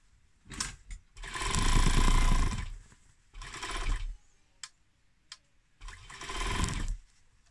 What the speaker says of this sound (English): Clip those and sew down your sides